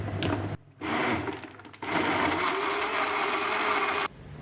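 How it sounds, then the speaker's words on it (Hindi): A blender whirring a sapota, banana and date milkshake with ice cubes, running in loud bursts with brief pauses in between, then stopping. "अब इसमें आइस क्यूब डालेंगे। फिर ब्लेंड करेंगे थोड़ा सा।"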